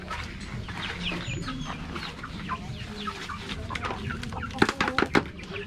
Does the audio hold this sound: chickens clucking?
yes